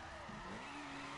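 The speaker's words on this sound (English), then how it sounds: "You can see the drifting!" Tires skid as a car drifts in the racing game The Crew Wild Run, a brief steady screech over a humming engine that bends in pitch, with no pause or break.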